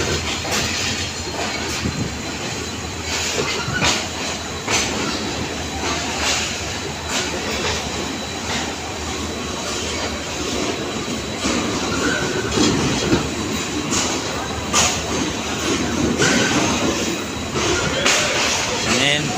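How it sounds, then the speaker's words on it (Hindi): The Hazara Express passenger train leaves the platform at a station at night and runs on its rails: a continuous loud rumble with repeated clickety-clack wheel beats throughout, and faint background voices in places. "प्लेटफार्म पर डिपार्चर हुआ है हज़ारा एक्सप्रेस का।"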